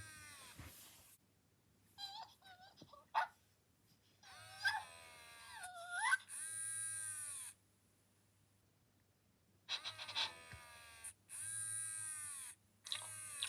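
An interactive toy puppy emits small whimpers, yips and squeaky electronic puppy sounds in short bursts separated by pauses, close and fairly quiet.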